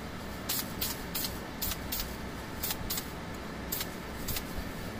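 Duplicolor sandable auto primer sprayed from an aerosol can onto a tabletop miniature, a run of short, quiet hissing bursts in quick repeated motions over steady background noise.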